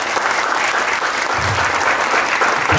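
Sustained audience applause at a digital marketing workshop, a steady dense wash of clapping that holds loud and even throughout without a break.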